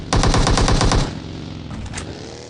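Rapid burst of automatic gunfire finishing off a knocked-down enemy in PUBG Mobile Lite, about a dozen close, sharp shots in quick succession followed by a quieter few scattered shots.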